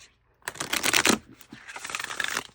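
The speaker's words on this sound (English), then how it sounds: "So it's got a really nice shuffle, even if I'm not shuffling well." An oracle deck of sturdy cardstock is shuffled up close, with two bursts of riffling card flutter separated by a brief pause and no voices.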